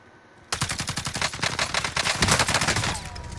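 Automatic gunfire in the video game Call of Duty Warzone: after a brief quiet moment, loud, rapid bursts of shots hammer on in a dense rhythm, with echoing cracks that carry to the end.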